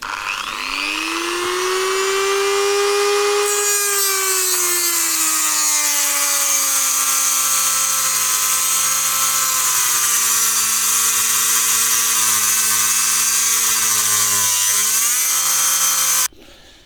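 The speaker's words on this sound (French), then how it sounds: "Je vais essayer au multitool là." An oscillating multitool cutting into part of a flail mower, a loud, close, continuous high-pitched whine that rises at the start, holds steady with slight pitch shifts for about sixteen seconds, then cuts off abruptly.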